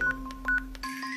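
A mobile phone keypad beeps out a quick run of DTMF tones as a number is entered, several short evenly spaced presses close by and clear, with no talking.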